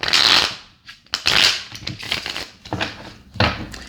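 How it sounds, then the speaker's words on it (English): Tarot cards are shuffled by hand in quick, papery bursts, close and fairly loud, with short pauses between riffles. "It told me it was ready, and I kept shuffling, so now I gotta shuffle more"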